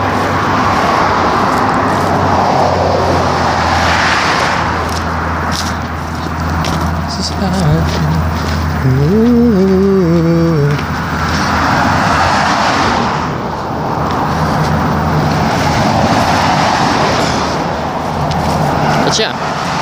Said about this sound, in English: I can barely hear anything over the traffic.